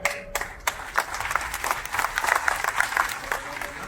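Audience applause at a Trinamool Congress workers' organisational meeting in Asansol, with a crowd clapping steadily and densely throughout, fairly loud with scattered sharper claps.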